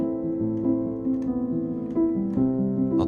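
A chord progression moves from a major four chord to a minor four chord and resolves to the one chord, played softly and evenly with smooth changes and no voices.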